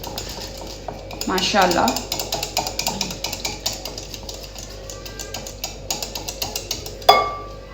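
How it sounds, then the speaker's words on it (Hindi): Whisk blending a creamy chana chaat mixture in a bowl, a steady run of light rhythmic clinks and scrapes, with a voice speaking briefly near the start. "और इसको हम इस विस्कर की मदद से अच्छी तरह से ब्लेंड कर लेंगे"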